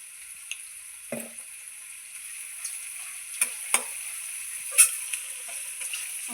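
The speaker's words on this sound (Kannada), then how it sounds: "ಈರುಳ್ಳಿ, ಕರಿಬೇವು ಮತ್ತು ಹಸಿ ಬಟಾಣಿ ಫಸ್ಟು ಹುರ್ಕೊಳ್ಳೋಣ." Onion, curry leaves and green peas frying in a pan give a soft, steady sizzle, broken by a few sharp clicks and scrapes of stirring, with no talking.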